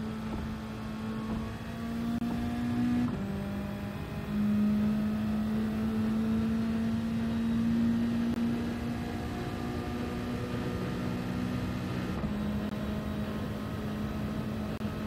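A race car in Gran Turismo 7 on the Tokyo Expressway, its engine a steady mid-pitched drone with small shifts in pitch, no clear revs, under a constant wash of road and wind noise.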